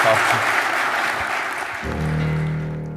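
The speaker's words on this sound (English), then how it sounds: "Can you give a round of applause for Tom Holland?" Audience applause for historian Tom Holland after a talk, full and steady at first, then thinning out as sustained music takes over in the second half.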